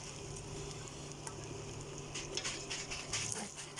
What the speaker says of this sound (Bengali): চালটা একটু ভেজে নেই।